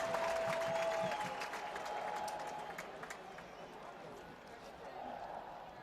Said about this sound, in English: that gets this crowd fired up